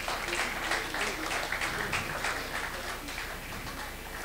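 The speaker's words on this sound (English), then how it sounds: "I think it deserves another round of applause" Audience applause at the NPC Expo 2021 in Nigeria after a presentation on branding, a steady dense patter of many hands clapping at moderate loudness throughout, with no speech over it.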